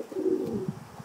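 A homing pigeon caught in an automatic trap coos softly and close, a low rolling burble lasting about a second.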